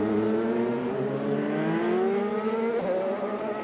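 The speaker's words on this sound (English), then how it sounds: "I hear a lot of revving in the pit lane." Racing cars in a pit lane at Sonoma Raceway during an ESR F-US Series round, engines revving in sustained rising and falling whines, loud and continuous with no talk.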